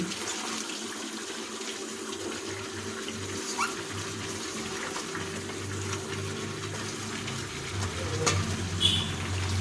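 Chicken and spinach stir-fried with a spatula in a pan, making a steady broad hiss of frying with occasional light scraping strokes, close by and with no voices.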